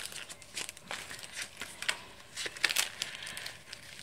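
Paper envelopes are handled for a CD junk journal, giving soft, repeated crinkles and rustles with a few sharper crisp crackles near the end, close and fairly quiet.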